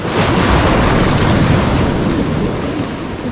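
Large waves surging along a flooded shoreline at Bucana after heavy rain, a loud continuous wash of churning water and wind-buffeted roar with no talking, steady throughout.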